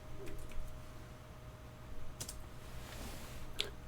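A few quiet, sparse keystrokes on a computer keyboard while typing a web search, faint clicks scattered over a low steady hum in a quiet room.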